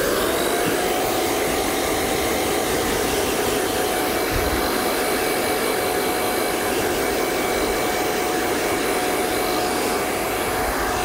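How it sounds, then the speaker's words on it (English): A loud salon hair dryer blows without a break, a steady whooshing roar with a whining motor tone, used at close range to clear cut hair off a client after a trim. "Grab the dryer."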